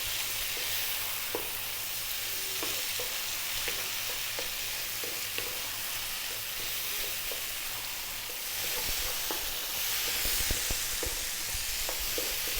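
A sizeable amount of chili frying in a pan for an Ethiopian egg-and-beef dish, a constant close hiss and crackle with faint stirring clicks, no voices.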